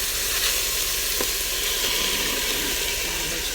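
Food sautés in an Instant Pot for a bean and ham soup, giving a steady broad sizzling hiss with a faint scrape or two and no talk.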